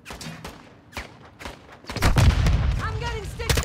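Frag grenade blast and gunfire in a first-person shooter game, with a heavy low rumble of explosion followed by sustained bursts of fire, loud and close, with a person talking over the action.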